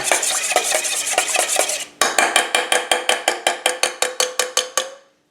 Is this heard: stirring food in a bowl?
yes